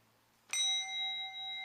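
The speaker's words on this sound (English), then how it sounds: "we ring this bell 3 times" A ceremonial bell is struck once at a Sunday service, a sharp clear strike followed by a long, bright ringing decay in a quiet room.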